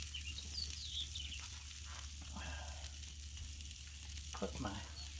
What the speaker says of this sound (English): Oh, look at that sear.